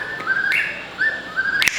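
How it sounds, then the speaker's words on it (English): A whippoorwill calling outdoors at an Audubon park in Ohio, a loud, clear whistled phrase of rising slurred notes repeated twice in quick succession, close and alone, with no talk. "Whippoorwill. Yeah, that actually sounds like it"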